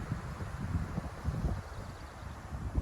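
Low, blustery wind by Lake Ouachita, Arkansas, buffets the microphone in uneven gusts, a steady rumble with faint rustling, no voices.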